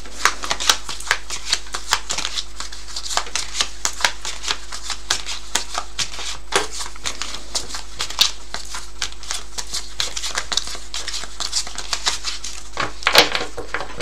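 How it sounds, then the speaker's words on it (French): Tarot cards are shuffled for a quick reading in rapid, crisp riffling flutters that run continuously and close by, with no talking. "je vais terminer la vidéo en faisant un petit tirage rapide de cartes"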